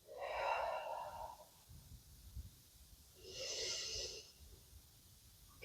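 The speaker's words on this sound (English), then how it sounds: "Breathe deep." Deep breathing during a yoga stretch, two slow airy breaths, a long inhale then another rush of air a couple of seconds later, close and soft with quiet gaps between.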